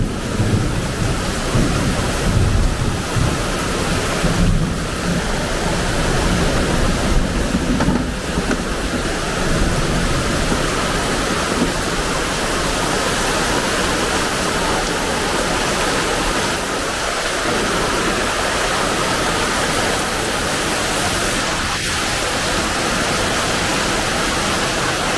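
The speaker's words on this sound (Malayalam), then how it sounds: "നല്ല മഴയാണ്." Heavy rain pours in a dense, steady roar throughout, with low rumbles of thunder swelling in the first half, loud and continuous with no voices.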